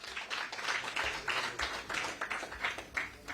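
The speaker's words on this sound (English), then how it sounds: "Another round of applause for the Minister." A round of clapping for a government minister at a post-budget dialogue, quiet and steady with irregular claps throughout.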